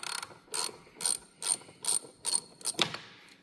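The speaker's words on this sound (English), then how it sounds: "so I'm just using a 10 millimeter socket and a ratchet. I'm just going to loosen this one up." A ratchet wrench with a 10 mm socket loosens a car battery terminal nut, giving seven or eight distinct rapid clicking bursts in a steady rhythm, close and clear with no talking.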